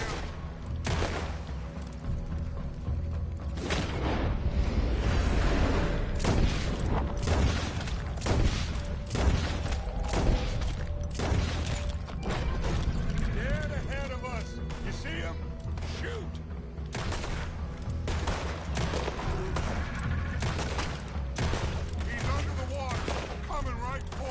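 Dense, sustained gunfire from the Red Dead Redemption 2 western game: rapid rifle and revolver shots crack one after another, loud and close, over a low continuous rumble of game sound.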